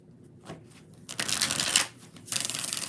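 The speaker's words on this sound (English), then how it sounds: "One more shuffle." Tarot cards riffle in a few quick bursts, the longest a rapid crisp flutter, close and fairly quiet with brief pauses between.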